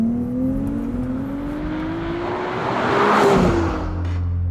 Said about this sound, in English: has had its hot tube exhaust resonator system redesigned for the GTS's cockpit to deliver the purest sound directly into the cabin